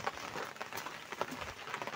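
Rain falls during a heavy downpour, a steady close patter of drops hitting a surface, fairly faint overall.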